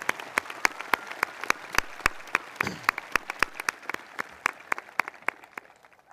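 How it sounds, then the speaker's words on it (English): Sparse, distinct hand claps at a high school graduation ceremony land in a fairly steady rhythm, sounding close and fairly crisp before thinning out toward the end. "Can we give them another round of applause?"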